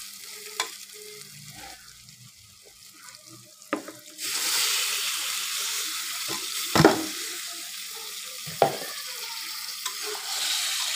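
Small mixed river fish dropped into a pan of frying spices with ground cumin bring a sudden rise in loud, steady sizzling, punctuated by a few sharp spatula clacks against the pan.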